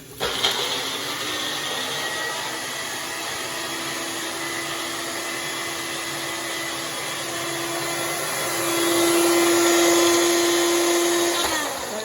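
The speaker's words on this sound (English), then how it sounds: "this was a way I thought I could mince it by doing it in the bullet" A bullet-style blender mincing garlic and onion gives a steady, loud motor whine that holds evenly for about eight seconds, then rises in pitch and loudness near the end before stopping.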